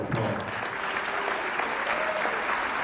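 An audience at a Sigma Tau chapter induction ceremony at El Centro College claps in steady, dense applause from start to end, loud and sustained.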